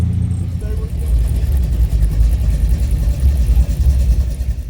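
A mini truck engine runs steadily at an outdoor truck gathering, its low rumble continuous and fairly loud throughout, with crowd murmur and voices mixed in around it.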